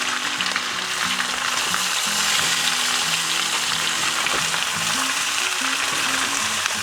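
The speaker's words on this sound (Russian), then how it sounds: "И не забываем помешивать нашу картошку." Potatoes fry in a pan with a steady, loud sizzle while being stirred, with scraping and shifting sounds running through the crackle and no voices.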